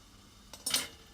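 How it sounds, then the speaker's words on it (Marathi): A metal clink, then a brighter clatter as a metal stand is placed in a kadhai while making dhokla, short and close, in a quiet room. "आता त्यामध्ये मी हे स्टँड ठेवत आहे कढईमध्ये"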